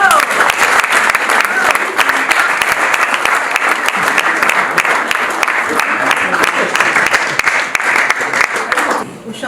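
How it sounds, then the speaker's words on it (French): Applause from an audience at an awards gala fills the room, loud and sustained for about nine seconds of dense, rapid clapping, with a voice emerging near the end. "Je vous demande d'applaudir à la hauteur de ce qu'il vaut"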